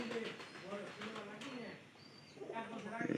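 Pigeons in a coop coo softly in low, rolling murmurs, partly masked by a person talking nearby.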